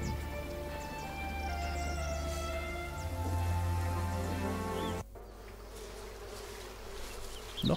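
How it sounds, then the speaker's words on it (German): Wasps buzzing around nests in a medieval cathedral-building video game, a steady loud insect drone for about five seconds that then drops to a quieter buzzing background. "Noch mehr von diesen Wespennestern."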